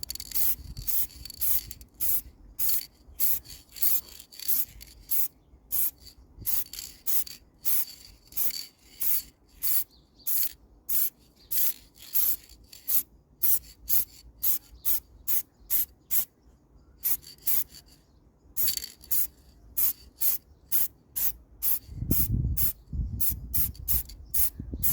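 Aerosol spray can applying gloss black paint to wheels: many short, quick hissing bursts in an uneven rhythm with brief gaps between them, close and clear, plus a low thump of handling near the end.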